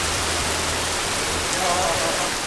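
Steady, dense hiss of pouring rain falling close by during a staycation, a loud continuous wash with no distinct drops and no talking.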